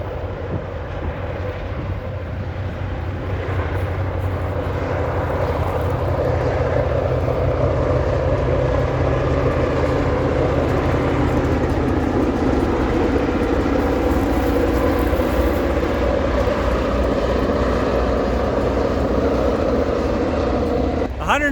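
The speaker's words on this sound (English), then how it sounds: "I can hear the train coming." A train approaching an old 1870s rail station, a steady loud low rumble and roar building slowly throughout, with engine drone beneath broadband noise and no distinct horn.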